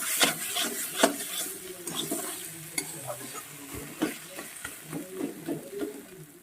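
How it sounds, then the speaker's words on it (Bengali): Spices crackle and sizzle in hot oil while boiled dal is tempered, with a spoon stirring and tapping against the pan in busy, close, steady bursts of frying noise throughout. "এই পর্যায়ে এবার আমি এটাকে ফোড়ন দেব"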